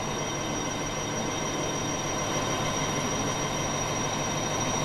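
An Indian Army train running on rails, travelling from a New Delhi army base toward Chennai, gives a steady, loud, continuous rumble of wheels and cars that holds at a constant level without pauses.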